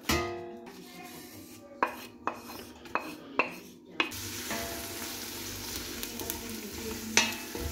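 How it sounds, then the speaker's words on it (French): Onion and celery sautéing in olive oil and butter sizzle steadily in a pan, with a run of sharp utensil knocks and scrapes as the mixture is stirred, the frying growing louder and denser partway through. "ce mélange-là, on va le mettre dans l'huile d'olive avec le beurre"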